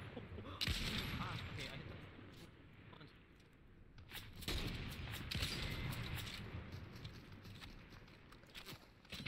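A sniper rifle fires in Fortnite, with sharp shots at about one second and four and a half seconds over steady game ambience and faint footsteps, and a voice speaks quietly in the background.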